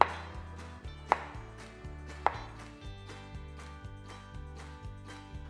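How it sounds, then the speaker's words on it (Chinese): A knife chopping choy sum stalks into thick pieces about 2.5 to 3 cm long on a cutting board: a steady run of crisp, evenly spaced chops, close and fairly soft, with two sharper strikes standing out and no talking. "酱汁在煮的同时来切菜心，你可以切得像脆瓜这样子的厚度"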